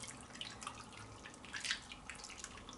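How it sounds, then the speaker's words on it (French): Milk, cream, salt and pepper mixture poured over sliced potatoes in a gratin dish, a soft continuous liquid trickle with light splashy drips, fairly quiet and steady, briefly louder midway, with no talking. "Et on va rajouter notre mélange lait, crème, sel, poivre."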